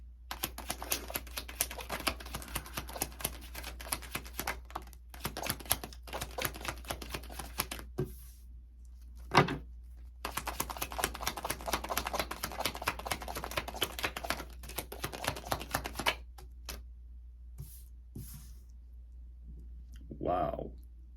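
Tarot cards being handled and shuffled close by, rapid crisp clicking and riffling in bursts with short pauses, a voice speaking in between.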